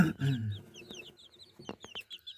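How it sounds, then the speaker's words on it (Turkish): Soft peeps and low clucking of about 30-day-old caged chicks, a few high chirps scattered over low murmuring calls, with some short knocks; close and fairly quiet, no speech. "yaklaşık 30 günlük civcivlerimiz yeni yeni büyüyorlar."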